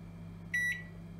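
A single short electronic beep from a Sharp R-372M 25-litre microwave as its power level button is pressed, clear and close over a faint steady hum.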